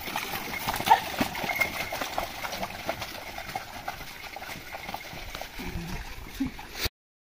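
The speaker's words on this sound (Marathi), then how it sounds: "नांगरावर हात ठेवून बैल हाकवण्याची मजा ही वेगळीच आहे" Bullocks pulling a plough through a muddy paddy field in rural Konkan: squelching, splashing steps and muddy churning continue steadily, with faint voices in the background.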